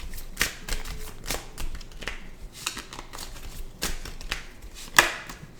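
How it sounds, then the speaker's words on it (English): Tarot cards being shuffled by hand in a quiet room, a series of soft papery riffles and slaps coming in irregular bursts, close to the microphone and fairly quiet. "So we'll just shuffle these."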